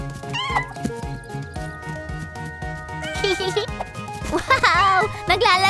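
Cartoon cats meowing in a playful run of high, bending calls, mixed with a child-like voice imitating meows and background music.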